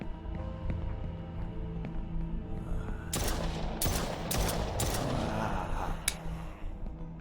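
Gunfire in a zombie wave-shooter video game: after a low ambient hum, a burst of several sharp shots cracks out in quick succession midway through, followed by a few scattered louder reports over a rumbling background.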